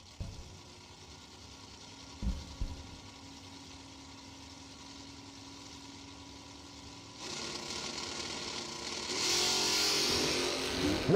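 A 1988 Chevrolet S10 drag race car at a drag strip idles faintly at first, then its engine swells into a louder, rising roar of acceleration over the final few seconds, heard from a distance with no talking.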